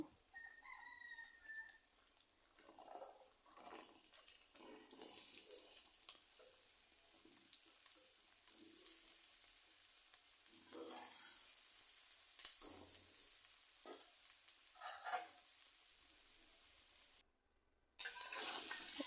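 Cauliflower florets and potatoes fry in oil with browned chopped onions, a steady high hiss of sizzling throughout, with soft scattered stirring clatter and a brief break near the end; no talking.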